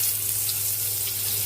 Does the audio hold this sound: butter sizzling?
yes